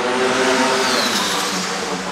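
Supersport motorcycle screaming at high revs on the Vallelunga race circuit, a loud close continuous engine wail with a shifting pitch as it accelerates through gears, no talk.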